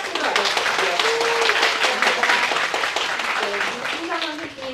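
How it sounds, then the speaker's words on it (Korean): A lecture audience at Korea University applauds a visiting speaker, many hands clapping in a dense, continuous wash under a voice talking over it, fading slightly toward the end. "큰 박수로 맞아주십시오."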